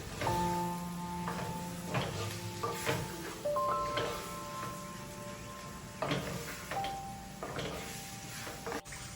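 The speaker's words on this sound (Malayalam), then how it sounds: "ഞാൻ മാരിനേറ്റ് ചെയ്യാൻ വെച്ചിരുന്ന ചിക്കൻ കൂടി ഇതിനകത്തോട്ട് ചേർത്ത് കൊടുത്തു. എന്നിട്ട് നന്നായിട്ട് ഇളക്കി യോജിപ്പിച്ച് കൊടുത്തു" Marinated chicken is stirred into fried masala paste in a pan for a Kerala chicken curry, giving scraping, shuffling stir strokes and a low sizzle, with a tonal background hum running throughout.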